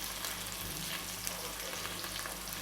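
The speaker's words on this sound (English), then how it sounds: "So the seasoning has been sauteed for around 5 minutes." Seasoning sautés in hot oil in a pan for a Jamaican brown stew fish, giving a steady, close crackling sizzle throughout with no voices.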